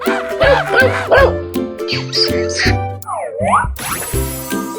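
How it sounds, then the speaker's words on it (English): Cartoon dog barks repeatedly in a 3D animal video game, several rhythmic bow-wow yips over bouncy background music and game sound effects, with a springy boing and a sliding whistle near the end. "Dog."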